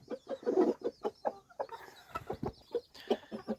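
Pigeons in a working dovecote, among them young grey birds, give a close run of rapid, rhythmic cooing and clucking calls at a moderate level, repeating steadily with no speech over them.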